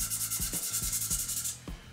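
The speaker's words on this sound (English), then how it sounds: "always sanding with the grain" Rhythmic scratchy rubbing of sandpaper along the grain of a square cherry and walnut bowl, repeated short strokes in a quick, even back-and-forth pattern, close up and fairly quiet.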